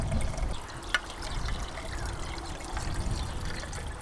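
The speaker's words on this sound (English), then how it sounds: "we're just going to put some water in there, and we're just going to put the half a litre in" Half a litre of water trickles and splashes steadily into a portable kettle, a soft continuous pour at close range, fairly quiet.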